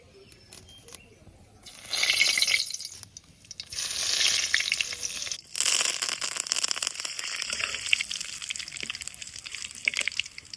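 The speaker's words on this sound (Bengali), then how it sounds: "এবার এই তেলের মধ্যে দিয়ে দিব হচ্ছে কারি পাতা" Curry leaves dropped into hot mustard oil in a wok while making a cauliflower and chicken dish, crackling and sizzling in loud bursts that swell, pause and resume at close range, with no talking.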